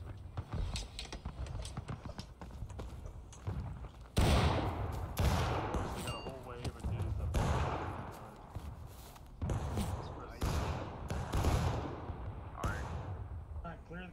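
Cannon fire and musket volleys in War of Rights boom repeatedly, with several loud, sharp blasts spread across the clip among scattered distant gunfire, while voices talk over the battle.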